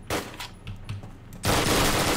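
Rapid bursts of submachine gun fire in a multiplayer shooter game, starting as scattered shots and swelling into a loud, continuous burst near the end.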